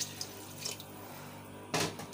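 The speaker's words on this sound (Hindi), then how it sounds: "2 गिलास हम इसमें ऐड करेंगे पानी" Water from a tap runs for a burst late in the moment, being added to a pot of cooked vegetables for a chicken vegetable pulao, with quieter faint splashes and drips before it.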